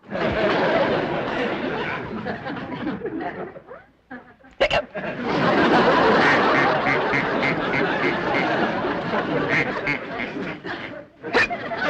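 A pet duck in a sitcom scene gives a run of loud, close quacks and honking, hiccup-like calls, nearly continuous with a short break in the middle.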